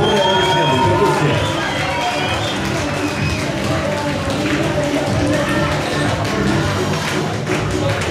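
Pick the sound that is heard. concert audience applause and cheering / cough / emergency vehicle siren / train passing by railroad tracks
concert audience applause and cheering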